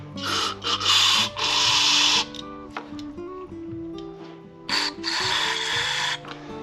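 Compressed air blasts out the small fuel orifices of a snow blower carburetor, coming in several loud, close hissing bursts separated by short pauses, with faint tool and part handling sounds in between.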